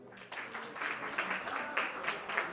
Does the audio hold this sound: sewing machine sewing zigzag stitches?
no